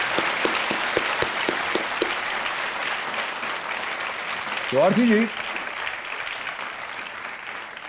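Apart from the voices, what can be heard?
studio audience applause on KBC quiz show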